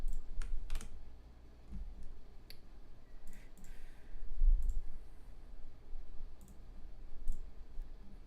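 Plastic game cartridges being shuffled and sorted by hand, giving scattered light clicks and clacks at irregular intervals, fairly faint and close, with no talking.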